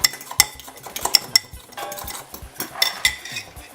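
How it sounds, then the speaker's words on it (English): Fork clinking and scraping against a bowl while eggs are whisked, with irregular metallic taps and short bursts of beating that are fairly close and loud, with no talk. "I like to use a fork to whisk because it avoids air bubbles"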